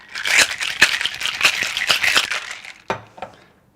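Ice rattles hard inside a cocktail shaker as a Negroni is shaken, a rapid run of loud, rhythmic clacks and crunches for about three seconds before a couple of final knocks and silence.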